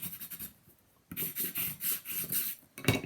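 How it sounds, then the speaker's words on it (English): Transfer tape is burnished down onto the corner art of a memory book cover, giving a series of short rhythmic rubbing strokes, close and soft, with a brief pause before the strokes begin. "Burnish it down."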